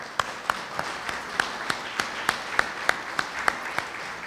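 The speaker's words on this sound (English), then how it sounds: "So can we have a round of applause for those folks." Audience at a press conference kicking off an economic development loan fund gives a round of applause, heard as sparse, steady individual claps at moderate distance, about a dozen sharp hand claps in regular rhythm.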